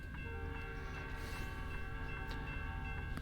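A train in American Truck Simulator rolls past with a steady rumbling drone and sustained horn-like tones, loud and continuous.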